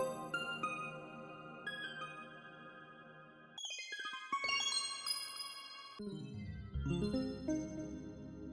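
Electronica bell and keys synth drenched in heavy reverb and unison; soft, shimmering chiming notes and chords that shift and ring out across the whole stretch, fairly quiet.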